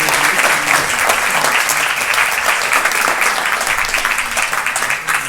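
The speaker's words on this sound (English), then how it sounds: "please give a big hands to all participant children" Audience applause for the participating children at a Gandhi Jayanti celebration in Cape Town, a dense, steady wash of many hands clapping loudly and continuously throughout.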